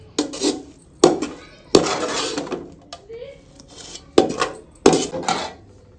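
Okra tumbles into an empty metal karahi wok in a village kitchen while iftar food is prepared, giving loud, uneven metallic clatters and knocks in bursts, with voices talking in between.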